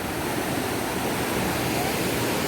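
A waterfall roars below a bridge on a Konkan trip near Rajapur, a loud, unbroken rushing wash with no pauses.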